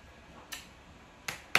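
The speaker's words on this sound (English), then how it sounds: "He doesn't like the clapping." During a dog training game, a few sharp hand claps ring out close by, one isolated and then two in quick succession, against an otherwise quiet room.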